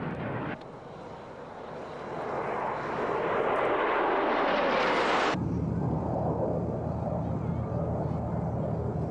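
An F-16 of the Thunderbirds display team flies at the RAF Mildenhall air show. A loud jet roar builds steadily, then cuts off abruptly partway through and leaves a lower, steady rumble.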